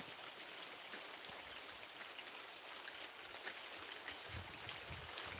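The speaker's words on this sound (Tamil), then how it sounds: "நல்லா மழை பெய்ய ஆரம்பிச்சிருச்சு" Steady rain falls across a coconut grove in farmland near Vadamadurai, Dindigul district, a dense continuous hiss of drops with no voices.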